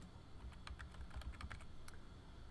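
Fingers type on a computer keyboard in a quick, uneven run of light clicks and taps, close up and alone against a faint room hum.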